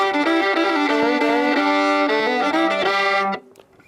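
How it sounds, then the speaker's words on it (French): Violin fiddling a lively country-style tune, bright sustained bowed notes with quick phrases, close and loud, stopping abruptly near the end. "Je veux un style country directement au violon."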